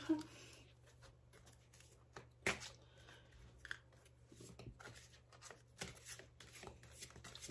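Oracle cards shuffled by hand during a witchcraft card reading, a run of soft papery riffles and flicks with a few sharper snaps, close and quiet.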